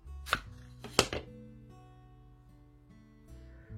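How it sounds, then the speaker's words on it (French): Scissors snip crochet yarn close by, two or three sharp cuts early on followed by a quiet tail and a faint click near the end. "on coupe le fil"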